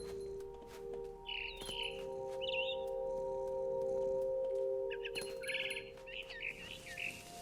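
Small bird chirps in the video game What Remains of Edith Finch come in short bursts of high twittering, scattered over a sustained background music drone, moderately loud with brief pauses between calls.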